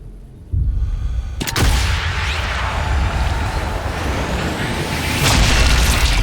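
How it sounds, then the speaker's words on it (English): Gunfire in a first-person shooter video game, a sharp loud crack that stands out against dense, continuous battlefield rumble and noise, followed by another burst near the end. "Gunshot was heard."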